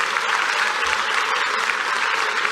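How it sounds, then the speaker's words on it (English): A crowd at a distinguished alumni awards ceremony applauds an alumnus, steady, loud clapping filling the room without a break. "give him a round of applause."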